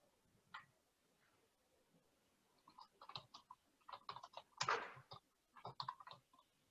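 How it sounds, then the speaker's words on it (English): Someone types on a computer keyboard, with quiet, uneven bursts of clicking keys that speed up into a denser flurry, close and alone in a still room. "while Kevin's typing"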